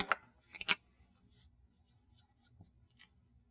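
Someone writes an equation by hand, producing a few short scratchy strokes, a quick cluster of louder ones at the start and then fainter scattered marks, with no talking.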